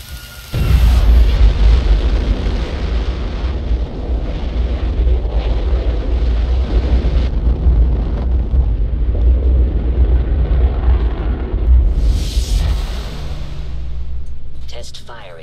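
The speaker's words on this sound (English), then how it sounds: "We're fortunate that the rocket engine fired instead of blowing" A rocket engine test firing in the Fallout 4 video game roars as a loud, sustained low rumble that holds steady for about fourteen seconds, with a hissing burst near the end before it eases off.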